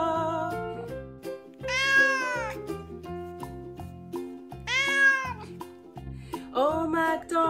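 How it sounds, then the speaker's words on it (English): A cat meows in a children's farm song, with two long, rising-and-falling meows standing out over a plinking, bouncy instrumental backing and a third cry starting near the end. "And on that farm he had a cat, E-I-E-I-O."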